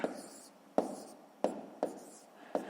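A pen writes numbers on paper during a fifth-grade maths exercise. It makes five sharp taps, each followed by a short scratching stroke, spaced roughly evenly, close and quiet, with no talk.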